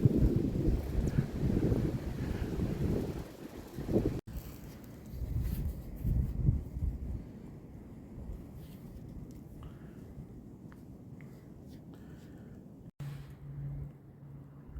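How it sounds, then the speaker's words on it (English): Gusty wind on Manitoulin Island during a snowy deer hunt, rumbling microphone buffeting that surges strongly at first, then eases into softer rustling gusts with a faint squeak near the end. "Day 2's a little bit windy here."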